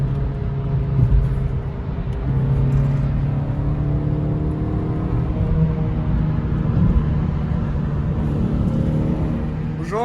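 A 2009 Renault Clio 3 RS Trophy accelerates hard onto a ring road, its engine holding a steady, loud in-cabin drone with rising tonal sweeps as the revs climb, continuous throughout.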